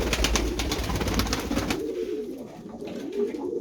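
Pigeons cooing inside a coop during an evening visit, a low soft murmur of several birds heard close by, with broadband rustling noise in the first half.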